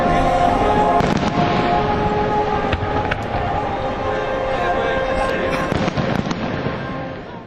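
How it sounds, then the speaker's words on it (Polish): A loud, continuous fireworks display at a fireworks festival during Sea Days 2008 in Poland: dense crackling and popping bursts with booms, and voices faintly in the background. "Każdej nocy można było podziwiać pokazy sztucznych ogni."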